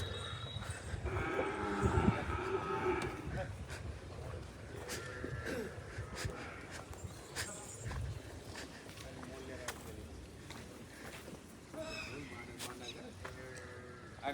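Cows mooing and lowing nearby on a farm, several long calls mixed with people talking outdoors.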